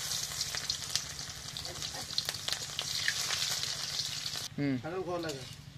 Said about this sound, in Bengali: এবার আমি এই যে কুচনো পেঁয়াজটা দিয়ে দেবো।